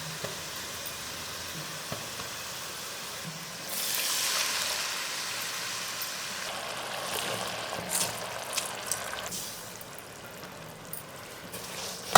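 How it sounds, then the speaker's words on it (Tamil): Vinegar poured into a pan of lemon pickle mixture with asafoetida and fenugreek powder, giving a brief broadband splashing pour and sizzle midway, then a softer crackling simmer that fades near the end. "அதுக்கப்புறமா எடுத்து வச்சுருக்க வினிகர் சேர்த்துக்கலாம்"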